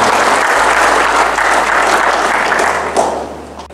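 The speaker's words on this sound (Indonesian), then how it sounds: "Beri aplaus yang mulia." A large audience applauds at a university rector inauguration at Universitas Budi Luhur: loud, dense, sustained clapping that holds steady, then thins out toward the end.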